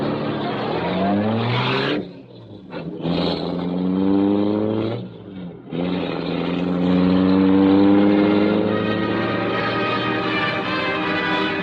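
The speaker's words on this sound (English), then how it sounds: "The great car roared into life." The Black Beauty, a large car, roars into life with a strong, steady engine drone that dips briefly twice, then rises and holds loud as it speeds away into the darkness.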